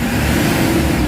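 A Hyundai H100 engine, lacking power and sluggish on acceleration, holds a steady loud rev close by in a short, unbroken burst. No one talks.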